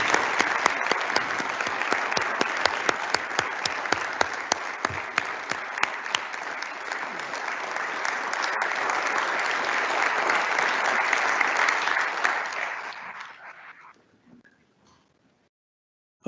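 Sustained audience applause in a chamber during a state governor's annual State of the State address, dense steady clapping for about thirteen seconds before fading out to near silence.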